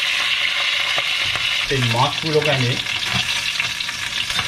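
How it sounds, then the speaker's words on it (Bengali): Hilsa fish heads fry in reused oil with a loud, constant crackling sizzle, while a person speaks briefly over it. "মাছের মাথাটা ভেজে নিচ্ছি"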